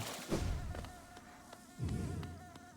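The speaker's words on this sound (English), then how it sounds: "That's why there's all these bees here, right?" Bees buzz in the Hollow Knight video game, a droning insect hum with a couple of louder swells as the buzzing passes close, over faint game ambience.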